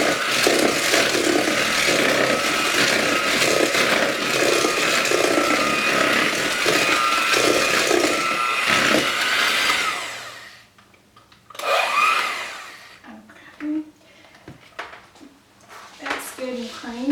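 Electric hand mixer beating butter and white sugar, a steady loud whirring drone for about ten seconds that then stops, followed by quiet bowl clinks and brief handling noises.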